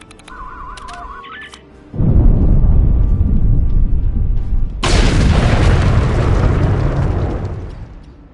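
A loud, sustained explosion in Star Trek Online bursts in partway through after a quieter tonal game effect, then a second broadband blast layers on top and the rumble slowly fades.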